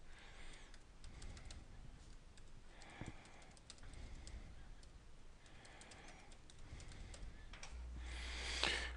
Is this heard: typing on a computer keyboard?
yes